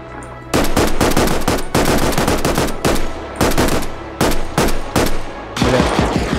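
Gunfire in the military game Arma Reforger, loud bursts of automatic fire in rapid repeated volleys separated by short pauses, close and dominant with no talk.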